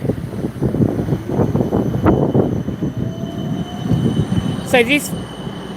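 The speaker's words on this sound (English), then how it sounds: "That tram is going exactly there." A Melbourne tram rolls past on Glenferrie Road, a steady rumble of wheels and motor close by on a city street, with a brief squeal near the end and a voice speaking over it.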